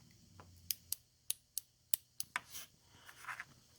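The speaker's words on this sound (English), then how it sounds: "is actually the injector clicking on and off" A series of sharp, dry clicks sounds at a quick, slightly uneven pace, close by, with faint rustling after the last few, from a faulty FiTech fuel injector on bench power clicking on and off.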